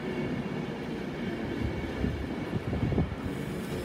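A Virgin Trains passenger service to Birmingham New Street pulls into Watford Junction on the West Coast Main Line, a steady close rumble of wheels and carriages with a rising clatter toward the end.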